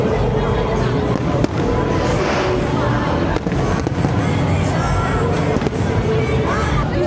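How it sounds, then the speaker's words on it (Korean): Fireworks burst outdoors at the Qingdao beer festival with sharp repeated cracks and booms over a steady crowd hubbub, while someone talks nearby. "와, 이 폭죽을 거의 한 30분에 하나씩 하는 것 같아요."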